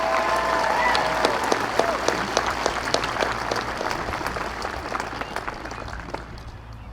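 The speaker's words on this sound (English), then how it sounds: "give her a round of applause for being state champion in the pole vault competition" A high school graduation audience applauds for a state pole vault champion, giving steady, dense clapping that stays loud and then slowly fades.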